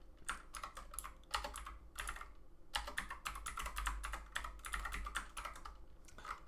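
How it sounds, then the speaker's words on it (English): Rapid typing on a computer keyboard, a dense run of close, crisp key clicks in irregular bursts with brief pauses between, heard alone without talk. "In here, we can type stuff."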